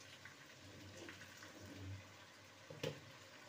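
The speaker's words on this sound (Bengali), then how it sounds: "অল্প অল্প গরম জল দিয়ে কষবে এবারে" Hot water is poured a little at a time into chicken browning in a pan, a steady watery rush over a low cooking hiss, ending in a brief louder splash and sizzle near the end. No one speaks.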